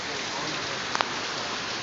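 Steady heavy rain pours down during a thunderstorm in northwest Dalton, a dense continuous hiss close by, with a brief faint tap near the middle.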